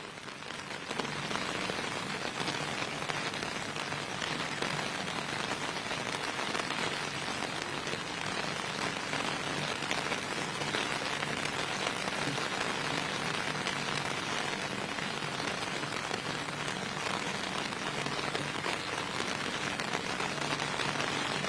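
Steady rain pours down during an outdoor anniversary celebration at a stadium in Kabale, a dense even hiss of drops on surfaces that holds unchanged and loud throughout, with no voices heard.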